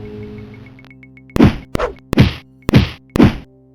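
A faint electronic tone fades, then five sharp whacking hits from an enemy striking the player land in quick succession, loud and punchy like video game combat impacts.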